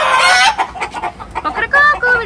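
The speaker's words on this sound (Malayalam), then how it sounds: "ഇങ്ങനെ കൊറേ കോഴികളുണ്ട് ഇവിടെ വളർത്തുന്നു" Chickens cluck and squawk loudly up close on a poultry farm, several birds calling in quick irregular bursts.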